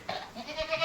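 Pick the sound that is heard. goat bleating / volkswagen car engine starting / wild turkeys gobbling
goat bleating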